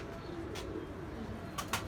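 A pet pigeon kept for pigeon-flying gives a faint, brief coo with a couple of soft fluttering bursts, heard at a distance against a low outdoor background.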